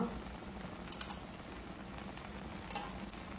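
Soft, steady sizzle of kashi halwa cooking in ghee in a pan, with faint scraping from stirring; quiet and continuous, no talk.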